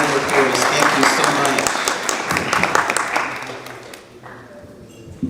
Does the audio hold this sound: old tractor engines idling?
no